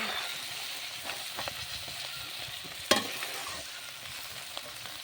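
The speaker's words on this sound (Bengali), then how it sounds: "চিংড়ি মাছগুলো লাল লাল করে ভেজে এখন আমি তুলে নেব।" Prawns fry in hot oil with a soft, continuous sizzle close by, broken by a few light spatula scrapes and one sharper crackle partway through, with no talk.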